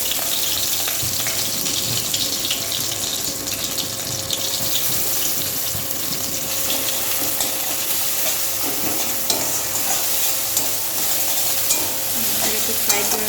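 Onion added to a pan of hot oil already tempered with cumin, whole garam masala and bay leaf, frying with a steady broad sizzle and occasional stirring scrapes in a home kitchen.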